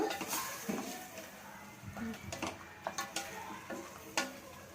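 Ground masala for mutton biryani fries in oil while a spoon stirs and taps against the pot, producing a faint sizzle and scattered scraping clicks, with occasional speech nearby.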